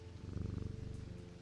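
A cat in the game Strange Antiquities purring steadily as it is petted, a soft, rhythmic, low rumble pulsing in quick even cycles, close and alone.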